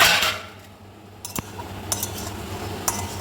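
Green banana and potato pieces sautéing in a pan for a light cumin curry, with a few scattered clinks and scrapes of a metal spatula against the pan over a low background hiss.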